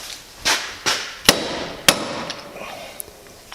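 Four sharp metallic hammer strikes at an uneven pace, close and loud, followed by a couple of faint taps and quiet background.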